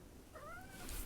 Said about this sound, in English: I've got a cat down here that's very vocal.